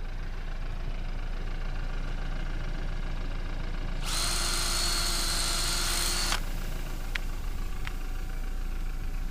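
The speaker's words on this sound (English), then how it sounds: "we're going to drill a hole in the tire" A power drill bores into a run-flat tire in one loud burst of about two seconds, whining over a steady background engine hum, followed by a couple of quick clicks.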